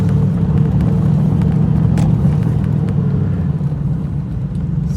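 A TVR Chimaera driven on the road, its engine a deep steady rumble heard from inside the car, loud and continuous with a slight easing toward the end.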